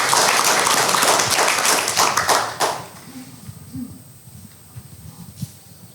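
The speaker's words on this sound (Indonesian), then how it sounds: "Tepuk tangannya buat KBRI Tashkent." An indoor audience claps loudly for the Indonesian embassy in Tashkent in a dense burst that fades out after about three seconds, leaving scattered claps and murmurs.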